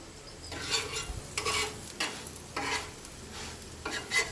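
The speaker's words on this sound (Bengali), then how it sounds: "আমি সাদা তেল দিয়ে দেবো কড়াইয়ের মধ্যে" Sugar paratha frying in white oil in a kadai, giving a soft, steady sizzle with a few brief scraping stirs and no talking.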